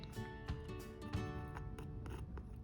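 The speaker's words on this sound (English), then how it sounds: "So I'm going to just scrape my palette knife just lightly here and there" A palette knife scraping lightly here and there across the foreground of a painting, giving soft, quiet scratchy strokes in short irregular bursts.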